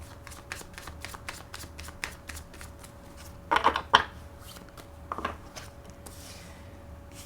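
Tarot cards being shuffled by hand, close and fairly quiet, with a run of light rhythmic riffles and flicks and a few louder bursts of cards slapping together.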